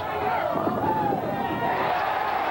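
Bowling alley crowd at a professional bowling match cheering for bowler Bob Learn Jr., a continuous loud roar of mixed voices and shouts that holds steady throughout.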